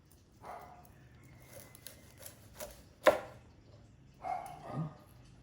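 A knife cuts through crispy-skinned bagnet pork belly, giving a few soft crunching chops and scrapes spread over several seconds, faint and close, with a sharper crackle in the middle.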